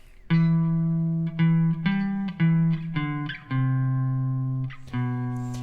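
A clean electric guitar plays a riff in sustained, ringing notes, in several separate phrases with short gaps, loud and close with no talking.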